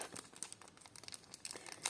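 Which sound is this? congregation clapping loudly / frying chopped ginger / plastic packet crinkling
plastic packet crinkling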